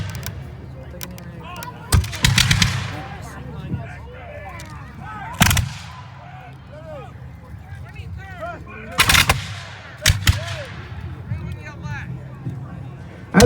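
Black powder muskets fire in loud, booming volleys at a War of 1812 battle reenactment, spaced several seconds apart, with crowd murmur and voices heard between the shots.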